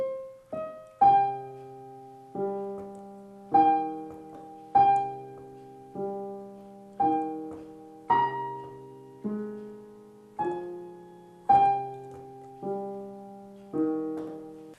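Solo piano plays a slow nocturne melody with a left-hand countermelody moving beneath it in the lower register, each phrase struck clearly and left to ring.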